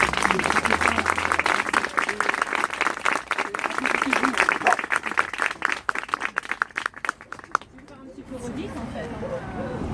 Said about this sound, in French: on peut applaudir Hamza pour son implication